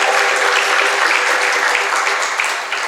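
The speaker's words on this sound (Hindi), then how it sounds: "एक बार उनकी भक्ति सम्मान के लिए जोरदार तालियों के साथ।" Loud, dense applause from an audience at a religious discourse gathering in Shuklaganj, Kanpur, continuous and bright throughout, slightly tapering at the end with no speech over it.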